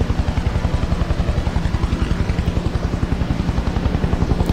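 A helicopter in Just Cause 2 thumps steadily with fast, even rotor beats over a deep engine drone, loud and close throughout with no voices.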